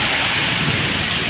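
Heavy rain pours down in a dense, loud, continuous roar with no pauses and no voices.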